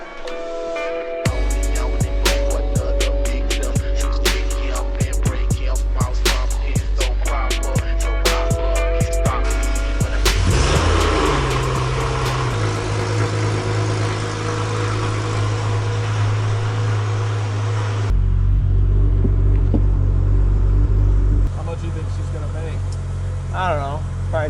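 A Porsche GT3 of the 997 generation strapped to a dyno, first revving in sharp rising and falling blips, then held at a loud sustained high-rpm pull before dropping back to a steady idle, close and dominant with voices underneath.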